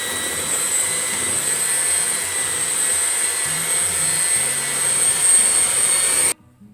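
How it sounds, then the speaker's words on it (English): A handheld electric mixer beats carrot cake batter with a steady, loud motor whir and a thin high whine. The whir runs for about six seconds, then cuts off abruptly. "So now I'm going to get my handheld mixer and beat."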